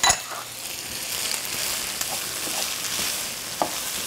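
Zucchini pasta with herbs and lemon zest sizzles steadily in a pan while it is stirred, with a few soft scrapes and light clinks of the utensil against the pan. No one speaks.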